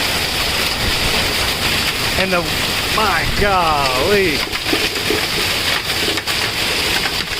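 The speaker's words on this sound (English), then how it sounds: "You can see the hail bouncing off her car." Hail and heavy rain pound a car during a violent Oklahoma summer storm with 60 mph winds, a dense, steady roar of drumming impacts throughout, with a person talking excitedly over it midway.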